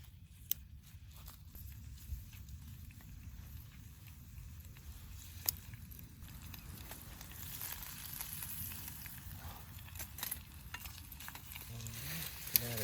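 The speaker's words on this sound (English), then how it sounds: "I've got the sausage pieces all cut up with a little bit of olive oil" Sausage pieces frying in a little olive oil in a pan over a campfire, a steady soft sizzle with faint stirring and scraping noises throughout, fairly quiet and close, with no talking.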